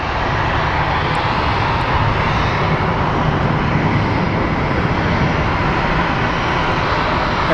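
A passenger jet flight arriving from Des Moines, Iowa at Phoenix Sky Harbor airport: a loud, steady, broadband engine roar that holds unbroken throughout, with no voices.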